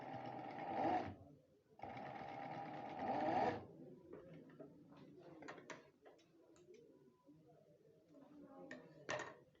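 A sewing machine stitches fabric for a front pocket in two loud running bursts, then fainter mechanical clicks and handling noises follow.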